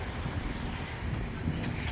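Wind buffeting a rider on a 2024 Kawasaki ZX-4R SE motorcycle, a steady loud low roar of rushing air across the microphone with no break, no voices heard.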